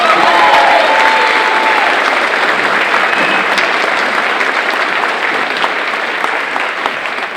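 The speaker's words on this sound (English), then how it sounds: "So if we could give her a huge round of applause." A large crowd at a high school Decision Day event gives a loud, sustained round of applause, with dense clapping and a few cheers. The applause stays strong and tapers slightly toward the end.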